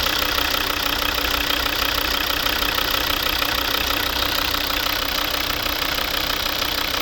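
A 2011 Volvo V60 2.0 D3 diesel with automatic gearbox idles steadily under an open bonnet, a close, even clattering hum with no change in pace and no voices.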